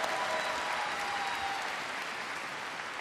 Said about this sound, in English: Oh, it's when we're clapping, isn't it?